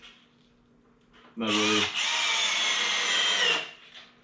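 A power drill drives screws into wooden tops of mobile firewood racks: one loud, close whir lasting about two seconds with a brief dip midway, then quiet.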